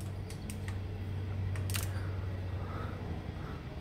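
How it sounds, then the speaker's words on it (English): A torque wrench on a Kawasaki KLR650 motorcycle engine inner case gives a few sharp, close clicks in quick succession over a low steady background hum. "So right now we're just torquing the inner case that we took off."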